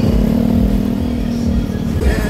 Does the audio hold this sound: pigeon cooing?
no